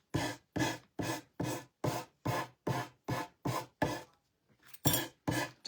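Rhythmic hand sanding of excess decoupage paper off a wooden bread box, about a dozen even back-and-forth strokes close up, a brief pause, then a few more strokes.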